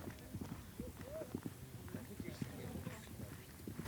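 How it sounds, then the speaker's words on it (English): Hooves of a horse galloping across the steppe in the Mongol Derby race, a rapid clip-clop rhythm heard faintly and steadily, with someone talking over it. "Galloping in, going through the goat herd"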